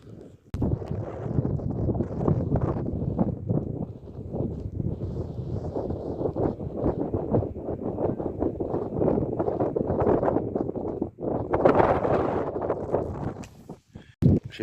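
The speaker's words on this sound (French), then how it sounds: "Je sais pas si tu vas m'entendre avec le vent" Steady mountain wind buffets the microphone for the whole stretch, a loud low rumble with gusty fluctuations and no other sounds standing out.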